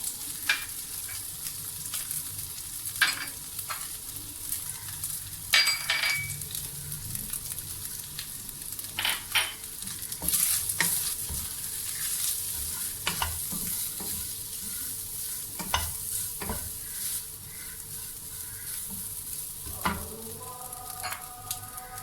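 Chicken and spices frying in a pan, a steady sizzle with scattered scraping clicks of stirring throughout, close and moderately quiet.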